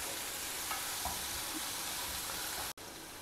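Finely chopped onion sautéing with cumin and mustard seeds in hot oil, a dense, even hiss with faint stirring, cut off by a brief dropout near the end.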